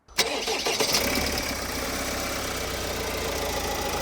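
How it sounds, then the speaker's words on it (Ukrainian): An Opel Astra K 1.6 diesel engine cranks briefly on a cold start and catches, then settles into a loud, steady rumbling idle close by. "Завівся бадьором, що на холодну"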